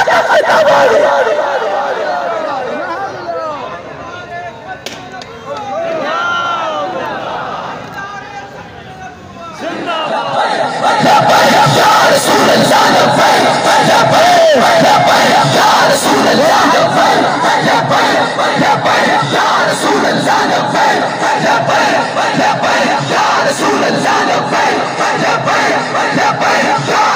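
A large crowd chants slogans in unison, loud and sustained, with a lone voice leading before the massed voices swell into a dense, continuous roar.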